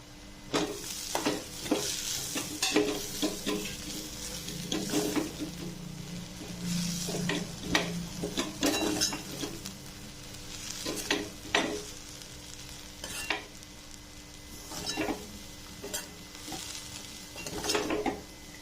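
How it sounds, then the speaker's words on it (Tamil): Grated coconut with split chickpeas, green chillies and curry leaves is stirred in a frying pan, with repeated spatula scrapes and clinks over a soft, quiet sizzle, close by. "தேங்காய் போட்டு ரொம்ப நேரம் வதக்கணும்."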